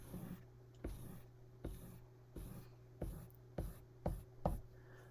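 Sharpie marker drawing lines on paper, a quiet series of about eight short scratchy strokes in a steady rhythm, each a brief squeak-and-swipe with pauses between, no talking.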